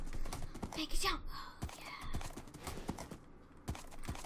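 Horse hooves clip-clopping at a gallop during a Minecraft horse race, a rapid, steady patter of game sound effects running throughout, with a voice talking faintly now and then underneath.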